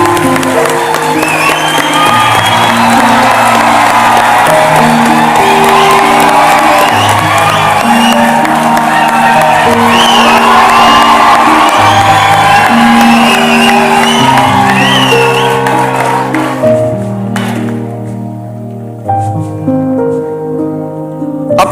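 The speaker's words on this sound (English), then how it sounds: "Now the audience may applaud." An audience at a college convocation breaks into loud, sustained applause and cheering, with music playing through the crowd noise before the clapping thins out near the end.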